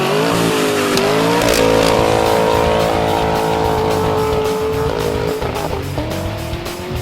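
Engine of a 2019 Ford F-150 Platinum with the 5.0 V8 running through a Magnaflow true dual exhaust, droning loud and steady with rising and falling revs throughout.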